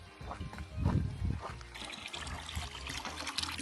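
Water trickling at an outdoor campsite water point: a steady close dribble and splash of running water, moderately loud, preceded by a few low thumps and handling noises.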